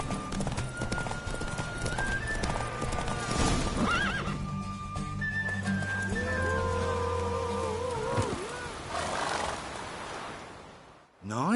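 Steady hoofbeats of a galloping horse pound throughout a horse race in The Witcher 3, with loud neighs and whinnies over a droning game soundtrack, ending in a sudden cutoff.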